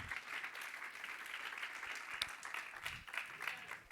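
A church congregation claps for the Lord, a faint, distant wash of applause that continues evenly throughout with a few stronger claps standing out.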